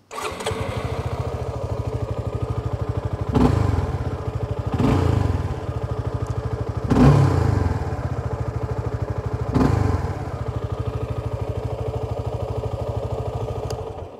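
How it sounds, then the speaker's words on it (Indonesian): A Suzuki Gixxer SF 250 sport motorcycle engine is started and runs, idling steadily with a deep, rhythmic thrum broken by several short throttle blips, close to the microphone with no talking. "Oke, kita nyalain aja motornya nih."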